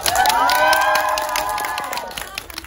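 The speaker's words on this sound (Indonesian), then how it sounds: "Tepuk tangan semuanya" An audience at a Rangga & Cinta film screening cheers and whoops loudly, with scattered clapping and excited shouts forming a dense, sustained crowd roar that tapers slightly toward the end.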